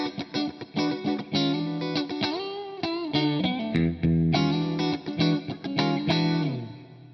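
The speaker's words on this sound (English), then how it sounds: "This is a deluxe Fender Deluxe reverb that I set up with a clean sound." Electric guitar played through a modeled Fender Deluxe Reverb amp set clean, ringing picked chords and single notes with a bright tone and light reverb, played alone and close.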